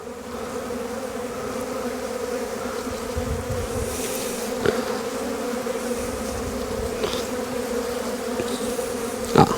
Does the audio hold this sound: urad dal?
no